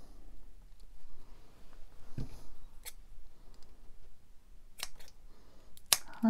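Scissors snip thread on a junk journal cover, producing a few small, crisp clicks scattered over quiet background, close and soft.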